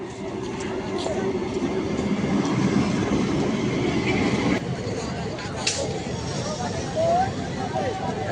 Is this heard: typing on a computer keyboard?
no